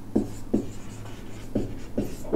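Chalk or marker tapping and scratching on a board during a Class 12 communication-systems lesson, five short distinct strokes in an irregular rhythm, close and moderately loud, with no talk over them.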